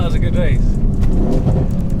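An 800HP Stage 3 Mercedes C63 AMG and a 750HP Stage 2 AMG GT R roar and rev up close in a drag race, a loud, steady rush of acceleration, with a brief voice-like tone near the start.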